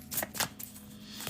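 Tarot cards shuffled by hand in a few quick riffling bursts, close and crisp, with short pauses between the bursts.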